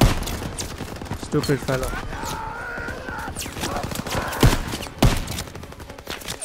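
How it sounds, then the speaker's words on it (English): Call of Duty: WWII D-Day battle: rapid machine gun bursts and scattered gunfire crackle through a dense soundscape of explosions and rumble, with voices speaking over the action. "That was a machine gun right there."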